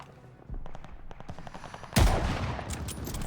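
Gunfire in the video game Call of Duty Vanguard: a burst of rapid automatic shots, then a louder close volley with a boom, running on in dense continuous firing.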